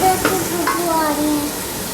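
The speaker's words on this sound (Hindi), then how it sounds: "एक मिनट में ये मसाला भुन चुका है" Masala fries in ghee in a pan with a continuous close sizzle, while a spoon scrapes and stirs through it a couple of times.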